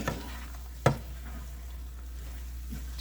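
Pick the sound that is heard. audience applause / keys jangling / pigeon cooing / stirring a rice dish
stirring a rice dish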